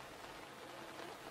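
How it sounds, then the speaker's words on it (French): Rain falls in a steady, soft hiss with no distinct drops standing out, fairly faint and uninterrupted. "Je ne veux pas être mouillé quand la pluie tombe du ciel."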